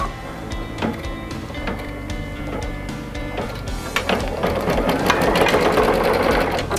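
An embroidery machine stitches a quilt, its needle hammering in a steady mechanical rhythm that starts up and grows louder and busier, close and continuous with no talking.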